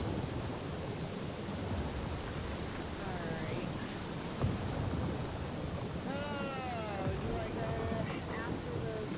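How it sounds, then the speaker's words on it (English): A video game thunderstorm: steady rain pours over low rolling rumbles of thunder, loud and constant, with tonal, sweeping sounds rising and falling over it in the middle and later stretches. "Well, at least the storm's not quite as bad as it was."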